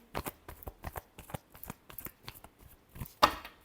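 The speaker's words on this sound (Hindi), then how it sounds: "Last shuffle." Tarot cards are shuffled by hand in quick, soft riffling taps, close and fairly quiet, ending with a sharper snap of the deck.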